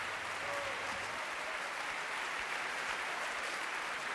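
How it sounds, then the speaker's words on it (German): Warm applause from an opera audience at a curtain call for a Paris production of Donizetti's Don Pasquale, a dense, steady clatter of many hands clapping throughout at even loudness. "auch er bekommt einen herzlichen Applaus"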